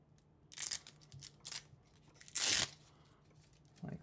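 Close, quiet tearing and crinkling in a few short bursts, the longest near the middle, as a backing liner is peeled away while making a bullwhip core.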